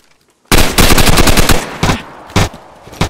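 Video game gunfire opens after a half-second hush with a loud rapid string of close shots, then breaks into a few shorter separate bursts.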